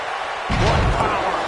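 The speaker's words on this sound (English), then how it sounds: "Clothesline to the back of the neck." A wrestler's clothesline slam to the back of an opponent's neck lands as a sudden heavy impact, followed by a loud, sustained crowd-like roar that fills the rest of the moment.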